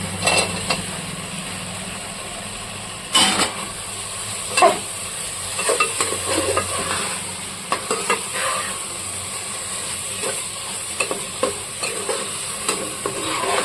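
Fried paneer pieces stirred into a sizzling pea masala gravy in a pan, with a steady frying hiss and intermittent scraping, clattering spoon strokes close by, no talk.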